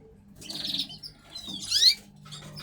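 A spare cock bird in a breeding shed gives a few short, clear chirps and tweets, close by and fairly soft, with quiet pauses between the calls.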